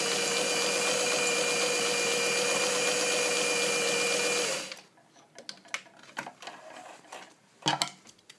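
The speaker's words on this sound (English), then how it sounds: "I'll zigzag again for you guys. And again, you can zigzag through this many layers if you want." A restored all-metal Singer 403 vintage sewing machine zigzag-stitches through eight layers of medium-weight fabric, running loud and steady for several seconds before stopping, followed by light handling clicks and rustles.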